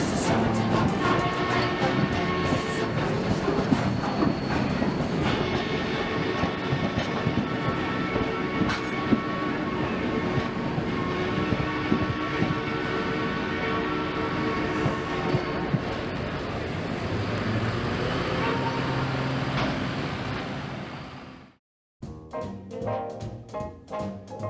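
The Durango and Silverton narrow gauge steam train in Colorado passes close by with a long, loud rumble and clatter of cars over the rails, fading out before a brief quieter stretch at the end.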